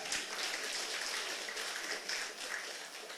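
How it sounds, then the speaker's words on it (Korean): Audience clapping during a talk in a Korean lecture hall, heard as a fairly faint, dense patter of many hands that holds steady for a few seconds. "박수 한번 치세요"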